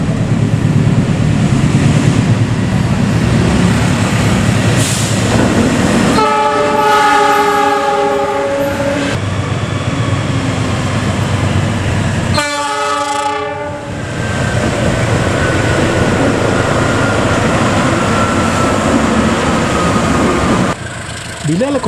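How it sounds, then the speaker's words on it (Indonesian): An Indonesian CC206 diesel locomotive runs back and forth on a roughly 800-metre test track, its engine rumbling steadily while the horn sounds two long blasts, one a few seconds in and another midway through. "Lokomotif harus melaju bolak-balik di jalur tes sepanjang sekitar 800 meter ini sampai beberapa kali."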